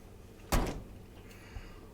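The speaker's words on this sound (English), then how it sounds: "On occasion, something hits the elevator door again" A single heavy thud against an elevator door, close and loud with a brief rattle, then a fainter knock about a second later in a quiet room.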